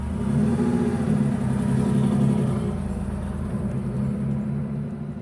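A 1977 Porsche engine runs with a steady, deep rumble that rises slightly as the car accelerates, heard close and continuous throughout with no voices.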